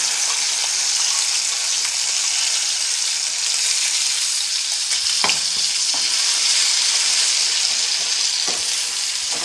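Ground jackfruit pulp goes into ghee with frying raisins and cashews for halwa, a loud, constant close sizzle and bubbling with a couple of short scrapes of stirring, no voices.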